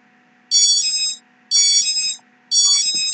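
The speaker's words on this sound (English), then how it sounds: "You will hear the ESCs make an unusual beeping sound" Three evenly spaced electronic beep bursts from the ESCs of a Hubsan 501 drone, each a rapid high-pitched warble lasting about half a second, sounding loud and close with quiet gaps between.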